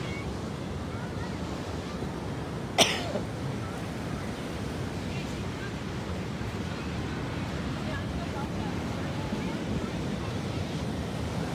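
Sea waves roll and wash along the California coast in a continuous broad roar, with wind buffeting the microphone and one brief sharp knock early on.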